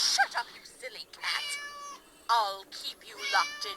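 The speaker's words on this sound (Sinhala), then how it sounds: "පූසේ කොහෙන්ද ගෑ ගහන්නේ" Several cat meows from a cat in the Scary Teacher video game, drawn-out and tonal, close and fairly loud, spread across the moment with short gaps between calls.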